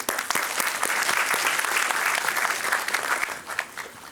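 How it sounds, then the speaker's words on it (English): An audience at a corporate talk with the Managing Director of Luminous Power Technologies breaks into a big round of applause, sustained crowd clapping with sharp individual claps standing out, easing slightly near the end. "A very big round of applause for him."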